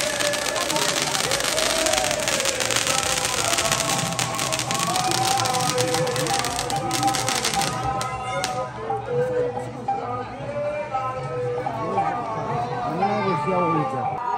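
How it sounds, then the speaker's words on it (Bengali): Fireworks bursting at a temple festival celebration for Nityananda's appearance day, a dense crackling barrage over crowd noise that thins after several seconds, with people talking and cheering throughout. "দেখো কত সুন্দর বাজি ফাটাচ্ছে"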